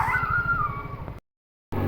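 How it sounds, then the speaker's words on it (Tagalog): A blind, lame stray dog whimpers in one long, thin whine over low background rumble, close and clear, before the sound cuts to sudden silence. "Isa po siyang bulag na aso."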